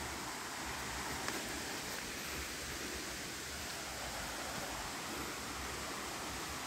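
Water pours down the Os Picos waterfall in São Pedro do Piauí after heavy rain, a steady, broad, hissing rush heard at a distance, faint and unbroken with no voices.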